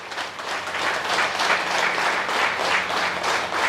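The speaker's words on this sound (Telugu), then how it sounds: "ఒకసారి కొత్త వాళ్ళకి గట్టిగా క్లాప్స్ కొడతాం" Audience applause for new members at a spiritual gathering, a dense, steady wash of many hands clapping throughout, fairly loud and continuous with no talk.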